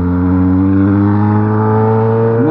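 A Yamaha XJ6 motorcycle with only an aftermarket exhaust pipe accelerates hard at close range, its engine note a loud, steady drone that climbs in pitch.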